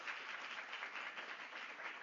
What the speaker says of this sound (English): Let's have another round of applause for all our speakers.